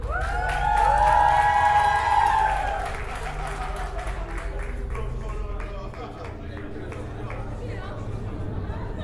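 An audience breaks into applause with cheering and chatter, loud at first and then thinning into a dense crowd murmur.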